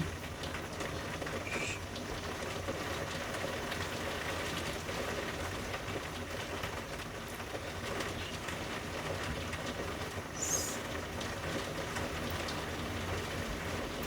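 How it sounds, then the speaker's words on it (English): Steady rain falling outdoors, a soft, even hiss with no clear breaks, faint and continuous, with a few brief higher chirps now and then. "Can you hear that rain?"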